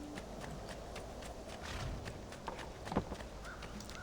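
Horse in Assassin's Creed 2 with steady hoof clip-clops and footfalls over a busy market ambience, a sharper knock near the end; no talk.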